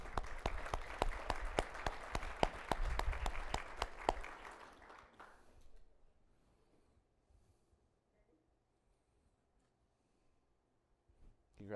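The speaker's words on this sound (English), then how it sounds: "Let's give them another round of applause." A round of applause at an engineering awards brunch: dense, steady clapping from a seated crowd for about four seconds, then fading away into near silence.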